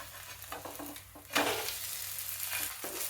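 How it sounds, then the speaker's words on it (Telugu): A Chinese vegetable pancake crisps on its second side with oil around the edges, a quiet sizzle that swells suddenly midway into a louder, steady frying hiss. "రెండో వైపును కూడా ఇట్లా క్రిస్పీగా కాల్చుకుందాం"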